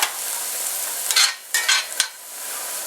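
Pepper steak sizzles steadily in a hot pan, with a few louder bursts of stirring and scraping against the metal over the constant frying hiss.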